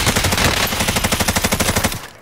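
Rapid automatic gunfire in an online battle-royale shooter game, a loud, close burst of evenly spaced shots lasting about two seconds.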